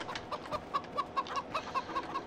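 Chickens in the Farming Simulator 2013 video game cluck in a quick, rhythmic series of short clucks over a soft, constant background.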